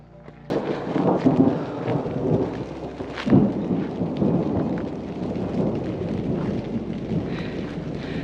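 Thunderstorm rolling through Swiss mountains beside a lake: heavy rain hisses steadily while near thunder cracks and rumbles, with strong rolls near the start and again a few seconds later, loud and continuous with no talking.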